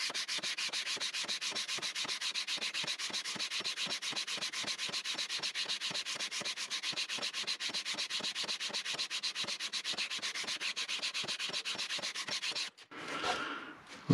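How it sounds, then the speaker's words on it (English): Rhythmic back-and-forth strokes of 80 grit sandpaper rubbing a banjo's wooden surface, steady and close for about twelve seconds before stopping with a brief shuffle. "I'm starting with 80 grit sandpaper"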